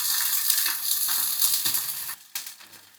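Onigiri browns in a frying pan, a dense, hissing sizzle up close that holds steady then briefly drops away and returns more faintly, with no speech.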